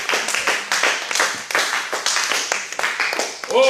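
A church congregation clapping and cheering for God, with quick rhythmic handclaps repeating steadily and close, loud throughout, while voices join in.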